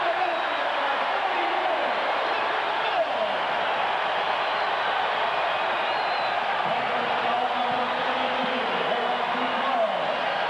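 Basketball arena crowd roaring steadily for the Wildcats during a 1991-92 college game, a dense, continuous wash of cheering and shouting that holds throughout with a commentator talking over it.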